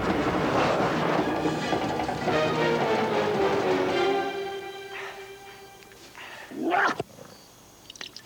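A cheetah snarls and growls in a harsh, raspy burst, loud and close for about four seconds, then trails off into softer rumbles, with a short sharp cry near the end.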